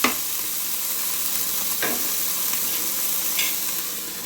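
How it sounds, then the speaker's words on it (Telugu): Tomatoes are stirred and fried in a hot pan, giving a dense, continuous sizzle with occasional scraping strokes of a spoon, close and fairly loud, no talking. "టొమాటోలు వేస్తాం. కొద్దిగా కలిపి"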